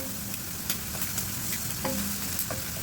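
Ground garlic puree sautéing in a hot pan for sardines with bitter melon leaves, giving a steady, even sizzle with faint stirring clicks, close and without talk.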